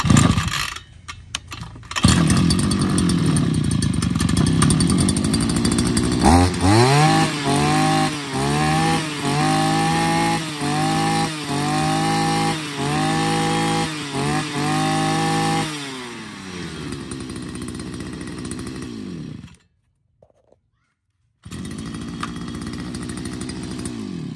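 A small petrol grass cutter engine runs close and loud, revving in a quick rhythmic series of surges. It drops to a lower idle, cuts out briefly, then starts running again.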